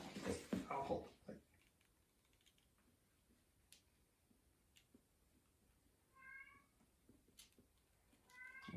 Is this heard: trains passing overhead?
no